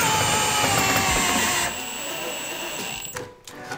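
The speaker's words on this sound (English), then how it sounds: "Get it on the head here and just screw it into the wall." A power drill drives screws into a wall while a full-motion TV wall mount is installed, giving a loud steady whine that drops to a lower pitch partway through and then cuts off, leaving brief handling noise.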